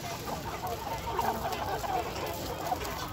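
Free-range Vietnamese Gà Lòi chickens cluck and murmur softly over a steady outdoor background on a Mekong Delta farm in the evening, a few brief calls standing out; no talking.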